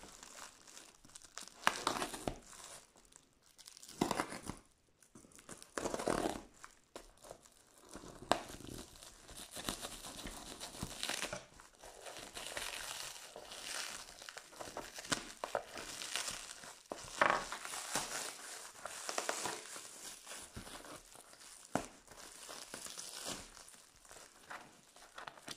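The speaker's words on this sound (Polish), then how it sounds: "Teraz otwieramy paczkę." A parcel is unwrapped, its packaging crinkling and tearing in irregular bursts of crackly rustling that continue throughout, fairly quiet with no talking.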